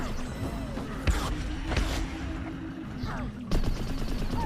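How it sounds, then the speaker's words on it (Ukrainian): Video game gunfire in Plants vs. Zombies: Garden Warfare cracks out in scattered single shots amid busy game noise and effects, with sharp bursts standing out from a cluttered background. "стріляють по мені."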